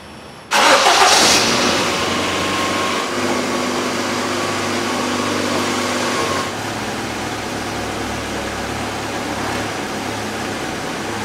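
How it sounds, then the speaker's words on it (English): A Ford Focus engine cranks and catches after exhaust repair work, then settles into a steady idle that continues, loud and close. "we'll start it up and make sure these joints are not leaking"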